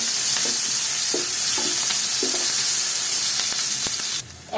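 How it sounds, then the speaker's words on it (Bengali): Sliced onions hiss and crackle in hot oil left from frying fish, with repeated spatula stirs and scrapes over a constant sizzle that drops off briefly near the end. "পেঁয়াজ দিয়ে এবার একটু তেলের সাথে পেঁয়াজটা একটু নরম করে নেব।"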